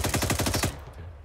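Gunfire in Arma 3: a short burst of rapid automatic shots, about eight quick loud reports lasting under a second, then a fading echo.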